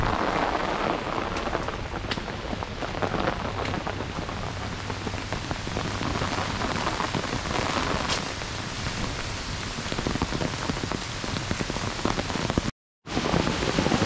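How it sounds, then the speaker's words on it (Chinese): A small waterfall on a hillside trail roars with a steady, dense rush of water, loud and close, continuing unbroken apart from one momentary gap near the end, with no voices. "小型瀑布"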